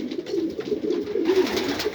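Domestic pigeons coo steadily in a loft, a continuous low throaty burbling of several birds overlapping, close and fairly loud, with no talking.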